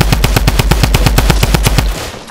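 Sustained automatic gunfire in Fortnite, a loud, evenly spaced stream of about fifteen quick shots that cuts off near the two-second mark, up close with no talking over it.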